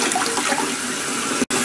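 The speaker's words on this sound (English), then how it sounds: "So first I turn on the water." Water runs from a sink tap at a bathroom sink while someone washes their face. The rushing, hissing flow is steady and fairly loud, then cuts out for a split second near the end.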